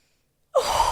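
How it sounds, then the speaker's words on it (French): After half a second of silence, one deep, breathy exhale from the belly starts abruptly, close and clear, during a breathing exercise, with no talking. "Et c'est vraiment respirer vers l'avant."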